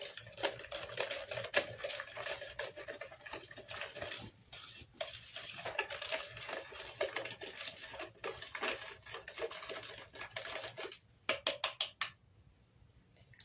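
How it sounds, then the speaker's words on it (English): Wood ashes and water being mixed in a jar: close, irregular splashing, sloshing and trickling with sharp clinks and pats, turning into quick taps before a quiet end; no one speaks. "We will mix the ashes with water."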